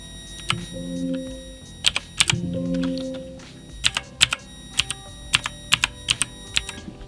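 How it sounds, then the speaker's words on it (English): Typing on a Silvercrest mechanical gaming keyboard, close and loud, with bursts of quick clacking keystrokes and short pauses between runs, the hollow springy clicks standing alone without speech. "it's a mechanical keyboard"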